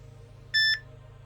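A single short electronic notification chime from a replica Apple Watch 6 smartwatch (FK98), a clear triple-tone beep, sounds once against a quiet background hum.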